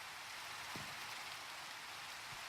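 Steady hiss of falling rain in the video game Minecraft Sky Factory 3, a constant soft wash of rainfall heard alone at low level with a couple of faint low thumps.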